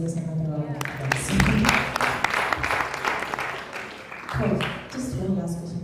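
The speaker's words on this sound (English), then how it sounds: "I think both deserves another round of applause." Applause from the audience at a Model Commonwealth Summit panel, a few seconds of scattered clapping with a voice speaking over and between the claps.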